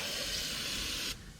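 Brake cleaner aerosol sprayed across an engine during a Chevy 1.8 Ecotec valve cover gasket job: a steady, loud, close hiss that runs for about a second before cutting off abruptly, leaving only faint background.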